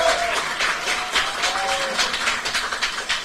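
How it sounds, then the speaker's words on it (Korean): Audience applause at a political party founding convention in a hall, a steady wash of clapping from a crowd that carries on through the whole stretch, with a faint tone or voice drifting underneath. "힘찬 박수 부탁드립니다."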